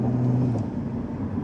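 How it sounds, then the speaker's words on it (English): A car with an N55 turbocharged engine accelerates, a steady low engine drone heard from inside the cabin, loud and continuous with no voices. "this is an N55 turbocharged engine"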